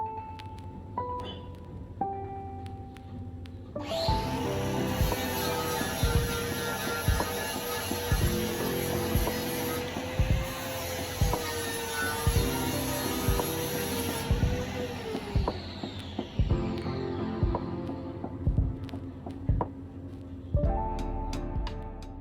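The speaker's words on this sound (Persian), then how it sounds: "این صدا اگه میخوای بدونی چیه، مال این جیپ آهوه که بعد از یه مدت طولانی دوباره استارت زدن روشنش کردن" An old Jeep Ahoo engine that was started after sitting idle a long time runs with a loud, steady droning hum. Its tone swells and shifts with revving before it settles back down.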